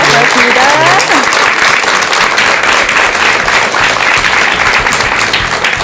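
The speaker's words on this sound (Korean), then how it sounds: "큰 박수 한번 부탁드리겠습니다" A lecture audience applauds loudly and steadily after a Buddhist monk's talk on Buddhist cultural heritage, the dense clapping filling the room without a break.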